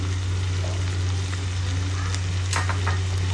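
Prawns frying in a pan with two spoons of chili powder added, a steady close sizzle running throughout with a constant low hum beneath and a few brief scraping stirs near the end.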